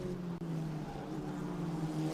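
A steady, faint engine drone from a Formula Regional Americas race car at Mid-Ohio hangs in the distance, unbroken and with no voices over it.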